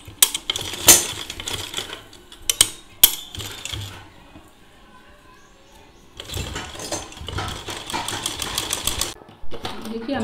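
A sewing machine stitches a fabric baby feeder apron in short, rattling bursts, falls quiet for a couple of seconds, then runs in a longer, rapid stretch of clatter.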